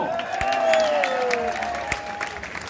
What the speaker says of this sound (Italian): Un applauso da concerto neomelodico!